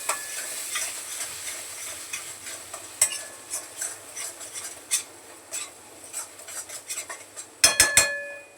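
A spoon stirs vegetable curry in a kadhai after a little water is added, giving repeated soft scraping and clinking strokes over a faint sizzle, with a few sharper metallic knocks near the end.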